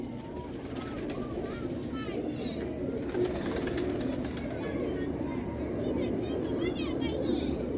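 Pigeons cooing in a loft or coop during handling of a Chinese female pigeon, soft steady coos and rustling under continuous nearby talk.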